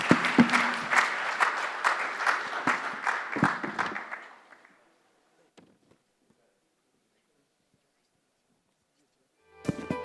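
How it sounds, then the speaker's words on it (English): An audience at a 2021 manufacturing awards event applauds the panelists: dense clapping for about four seconds that fades to near silence, then a fresh burst of applause starts at the very end. "can we have a huge round of applause for the panelists"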